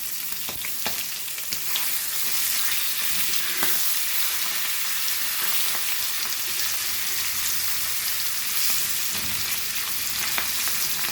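Hilsa fish fries in a pan with a loud, constant sizzle and spatter, broken by scattered clicks and scrapes as the pieces are flipped.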